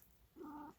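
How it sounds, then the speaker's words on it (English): A cat gives a short, faint, drawn-out meow-like vocalization that rises and holds briefly, in a quiet indoor room. "That's my cat General, by the way, if you heard him."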